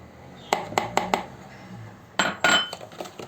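A spoon stirring sugar into a dessert mixture clinks sharply against its bowl: four quick taps, a pause, then a few louder scraping clinks, close and clear with no talking.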